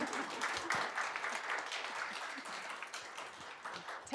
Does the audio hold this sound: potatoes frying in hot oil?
no